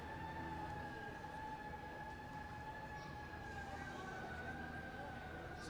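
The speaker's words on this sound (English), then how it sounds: "Siren goes off in the distance." A siren wailing in the distance near a baseball stadium, a faint steady tone that slowly drifts in pitch above a dense crowd murmur and ambient hum.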